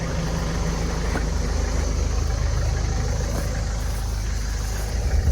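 A tractor engine idles on a farm with a steady low rumble, loud and close, holding an even drone throughout with no talk.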